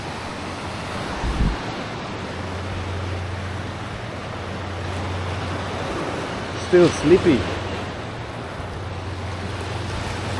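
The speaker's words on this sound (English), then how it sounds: "Water is choppy." Choppy sea water washes at Key West beneath a low, steady hum and wind rumble, with a brief louder splash partway through. A person speaks briefly over it.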